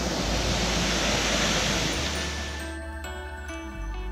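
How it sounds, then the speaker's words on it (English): An Icelandic waterfall beside the Ring Road roars as steady, broadband rushing water, loud at first and then fading to a lower level as a humming vehicle drone with a steady pitch takes over. "Yep, just another one of Iceland's waterfalls on the way to the fjord town"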